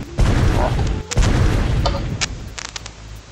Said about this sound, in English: bang, it's the pea shooter